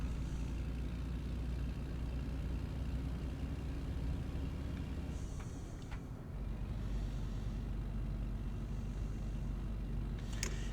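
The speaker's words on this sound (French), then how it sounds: "Je vous laisse juste écouter le bruit du moteur." A 1970 Volvo F89 truck engine in Euro Truck Simulator runs steadily with a low rumbling drone, quiet and continuous, with a brief dip partway through.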